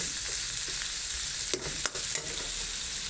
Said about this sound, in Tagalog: Lagyan ko na ng corned beef. Yan siya. Tapos again, haluin.